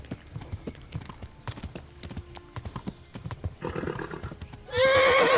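A horse gallops with strong, rapid hoofbeats in the medieval video game Kingdom Come Deliverance, then lets out a loud, shrill whinny that ends the run.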